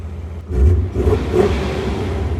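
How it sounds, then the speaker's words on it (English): A BMW E39 M5 engine revs once sharply, rising to a deep growl and settling into a steady idle rumble, close and loud. "gotta rev it one more time even though we're not fully operating."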